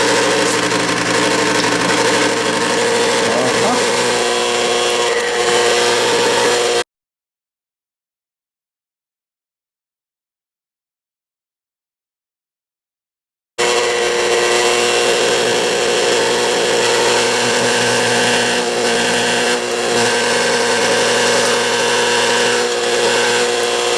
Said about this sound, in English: Start this grinder.